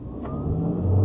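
A Mitsubishi XForce Hybrid engine revs up under acceleration, a low rumbling hum rising in pitch over about a second.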